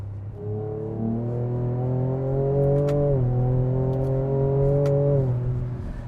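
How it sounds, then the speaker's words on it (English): A Ford Ranger Raptor's twin-turbo V6 exhaust, in Baja mode, rumbles and revs under load with turbo noise, its pitch climbing steadily, briefly dipping at a shift, then rising again before easing off. "It makes a pretty good noise for a twin turbo V6"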